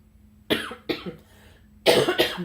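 Three sharp coughs close to the microphone, two spaced a moment apart and a final harder one, with near silence between them.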